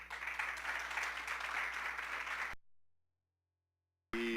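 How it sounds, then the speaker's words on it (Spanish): An audience claps for a speaker at an afternoon gathering, a fairly faint, steady wash of applause lasting a couple of seconds before cutting to silence, then a brief burst of other sound. "les pido un fuerte aplauso para Emma"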